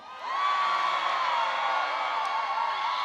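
A festival crowd at the opening ceremony performance of the Cheonan Heungtaryeong dance festival roars with loud, sustained cheering, whoops and shouts. It swells up within the first half second and holds steady throughout.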